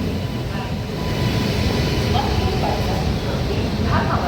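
A superfast express with new LHB coaches, hauled by a WAP-7 electric locomotive on the Machilipatnam–Bidar route, rolls past as a loud, steady rumble with a voice talking over it.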